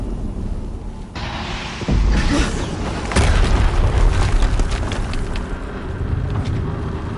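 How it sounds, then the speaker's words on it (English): A heavy explosion booms in Horizon Zero Dawn, an abrupt loud blast followed by a second hit and a long rumbling, roaring tail of debris and wind. "Another explosion."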